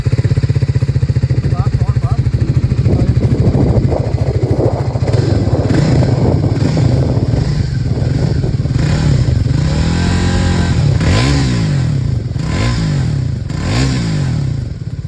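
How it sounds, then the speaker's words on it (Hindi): A Triumph Speed 400 motorcycle with a 400 cc single-cylinder engine idles loudly, its exhaust holding a steady low thump before climbing into several swelling revs toward the end. "अगर आप एग्जॉस्ट साउंड पूछो तो एग्जॉस्ट साउंड की यहाँ पे क्लिप लगा दूंगा"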